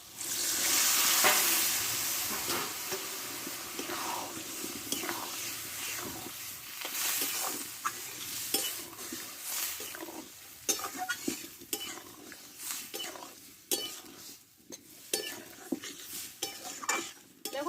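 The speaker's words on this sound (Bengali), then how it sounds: "এবার এখানে সিদ্ধ করে রাখা মটরটা আমি এবার ঢেলে দেবো দেখো" A loud splash as boiled peas drop into sizzling masala in a pan, followed by steady frying hiss and repeated spoon scrapes and clinks against the pot as it's stirred.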